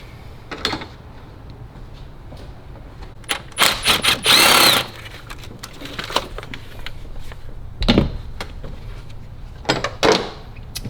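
An E12 bolt on the high-pressure fuel pump line of a BMW E90 335i with the N54 engine is worked loose, giving intermittent close metallic clicks, ratcheting bursts and clatter.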